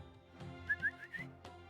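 A person whistles a few short, rising chirps in imitation of a bird call, close and fairly quiet, with a soft breathy note between phrases.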